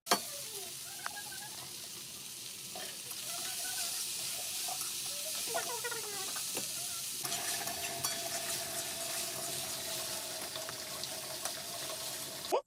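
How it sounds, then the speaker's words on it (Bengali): Boiled water spinach frying with dried chili and onion in a pan, a continuous close sizzle with scraping stirring strokes and a brief watery splash, no talk. "ভালোভাবে সিদ্ধ হয়ে গেলে শুকনো লঙ্কা আর পেঁয়াজ দিয়ে ভালো করে ভেজে নিচ্ছি।"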